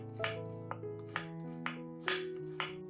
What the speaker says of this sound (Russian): 2 красных луковицы среднего размера разрезаем пополам и нарезаем полукольцами.